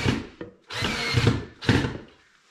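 Power drill pre-drilling screw holes in plywood for miter-fold floating shelves in a woodshop: three short whirring bursts with brief pauses between, close and clear, the last burst trailing off.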